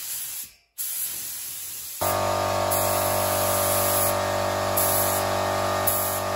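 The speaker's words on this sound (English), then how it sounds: "Then I applied the first coat of paint with a light spray." A steady hiss of spray paint on a car fender, briefly cut at the start, then a long continuous close-up spraying that holds evenly to the end.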